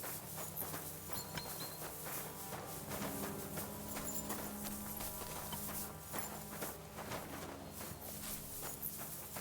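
Horse hooves clip-clopping in Kingdom Come Deliverance 2, a faint, steady walking rhythm of hoofbeats under a layered game soundscape with music.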